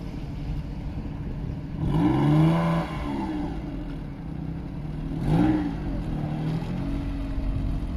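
Suzuki Swift imported from Japan, its engine idling with a slight exhaust leak, rising into two short revs a few seconds apart before settling back to a steady idle.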